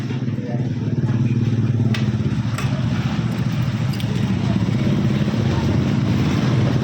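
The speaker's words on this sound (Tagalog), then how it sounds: "Okay na po ang motor." A new motorcycle engine runs steadily at close range, a continuous low rumble that stays loud and unchanged from start to finish, with a few faint clinks in the background.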